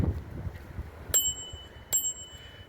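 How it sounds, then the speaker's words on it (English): A small bell on a touring bicycle rings twice, two bright, short dings about a second apart over quiet low outdoor rumble. "Got a little bell"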